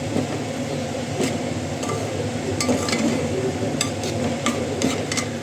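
Spices frying with rice and dal in a pan for khichuri, a continuous sizzle with scattered scraping stir strokes throughout, close and moderately loud, no talking.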